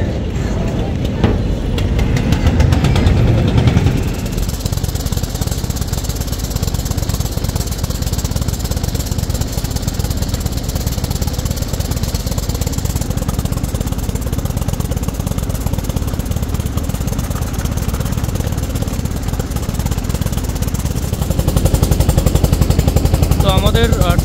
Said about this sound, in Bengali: আমাদের ট্রলার ছেড়ে দিছে, আছে কীর্তনখোলা নদীতে